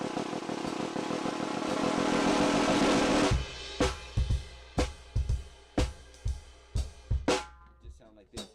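Drum buzz roll: a sustained dense roll swells for about three seconds, then breaks into a string of separate sharp hits, close and alone.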